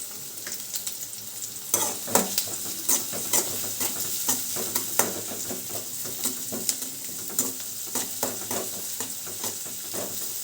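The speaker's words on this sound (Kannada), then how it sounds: "ಈರುಳ್ಳಿಯನ್ನು ಹಾಕ್ಕೊಂಡು ಚೆನ್ನಾಗಿ ಈರುಳ್ಳಿ ಬಾಡಿಸ್ಕೋಬೇಕು" Onions sauté in a pan while being stirred, a soft sizzle under repeated scraping clinks of a utensil coming in irregular bursts, close and alone.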